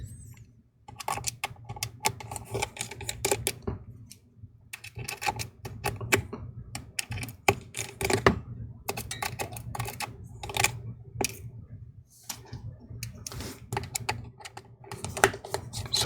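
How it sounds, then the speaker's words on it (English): Small screws on an iPhone XS Max are worked loose with a tri-point Y screwdriver, giving faint, quick ticking and clicking bursts in irregular clusters at close range, with no talk. "So let's remove some of the screws here."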